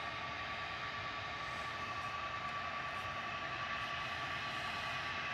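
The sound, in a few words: aircraft at Manchester Airport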